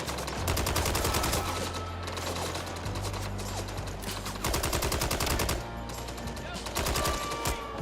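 Rapid gunfire in the video game Red Dead Redemption 2, loud, close bursts of shots in quick succession over a low background drone, with brief pauses between volleys.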